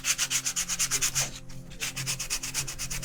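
A wooden block is rubbed with sandpaper in steady, rhythmic back-and-forth strokes, close and fairly loud, with a brief pause midway before the strokes resume.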